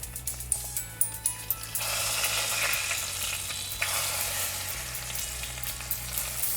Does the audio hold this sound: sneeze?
no